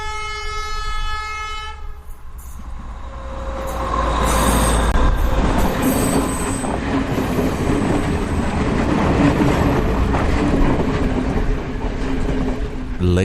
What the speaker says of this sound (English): We also get to the railway tracks at the edge of the golf course, just as the train is approaching.